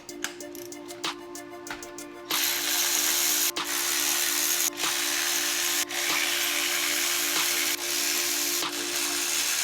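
A ratchet or power tool working spark plugs out of a BMW E39 528i engine, starting with short clicking bursts and then shifting to a steady loud whir broken by brief pauses, close up with no talking.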